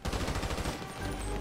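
Rapid bursts of automatic gunfire in GTA V multiplayer combat, dense and continuous for about a second before a brief lull and more shots, loud and close with no talk.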